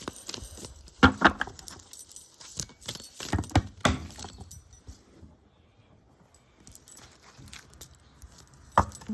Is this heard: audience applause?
no